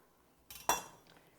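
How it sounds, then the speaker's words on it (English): A knife cuts through a zested lime on a board, giving two quick, close clinks and taps, the second sharper and louder, then fading to quiet. "Now that we've zested the lime, I'm going to cut it and get the juice from it."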